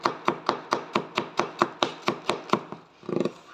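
Kitchen knife slicing spring onions thinly on a board, a steady run of about a dozen crisp, evenly spaced chops close up, then a softer scraping thud after a brief pause, with no talking.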